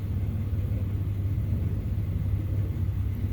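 A Toyota Camry 3.5L V6 2GR-FE engine runs with a steady, close, deep rumble, holding an even pitch and loudness throughout.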